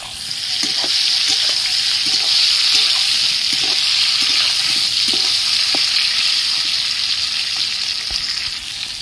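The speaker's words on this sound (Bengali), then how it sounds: "পটলগুলো লাল করে ভেজে নেব।" Pointed gourd (potol) pieces with salt and turmeric frying in a pan, giving a steady, loud, close hiss with light scraping and stirring taps throughout, no voices.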